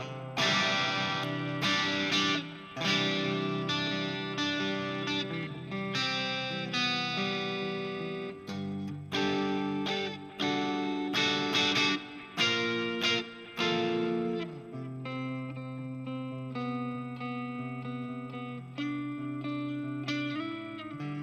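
Electric guitar played through a Kemper profiler with an AC-style amp tone and added reverb and delay: ringing chords and single notes in strummed bursts, sustained and mid-loud throughout.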